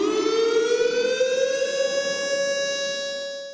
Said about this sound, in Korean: 추모 사이렌이 울리자 모두 묵념합니다.